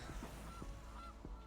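A goose honks in MTG Arena, a few short, nasal calls spaced about half a second apart over a steady background of game sounds.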